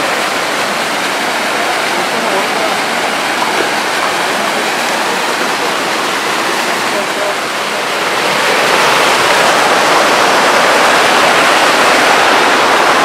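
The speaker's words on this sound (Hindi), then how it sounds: "तो दोस्तों ये आगे ऐसे छोटे छोटे वाटरफॉल बने हुए हैं" Small waterfalls at Bhatta Falls in Mussoorie give a steady, dense rush of falling water that stays close and loud throughout, swelling a little louder in the second half, with no voices.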